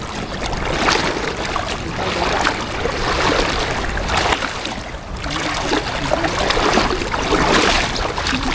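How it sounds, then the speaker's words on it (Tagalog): Strong river current rushing through a forest, a steady, loud broadband wash of churning water that swells and eases slightly without pause. "Lakas ang agos."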